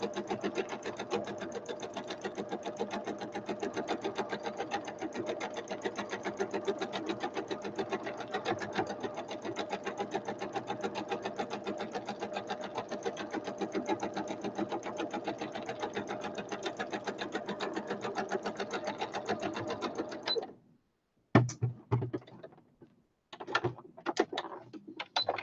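A sewing machine stitches a sewing runner in a long, rapid, even mechanical whir that runs for about twenty seconds, then stops abruptly before a few brief handling noises.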